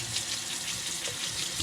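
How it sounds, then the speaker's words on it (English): Cold tap water runs steadily over cooked poke sallet (pokeweed) greens in a sink, a continuous close hissing rush with no talk. "And just rinse it with some cold water."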